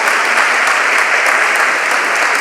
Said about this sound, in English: Let's give Ashley a round of applause as well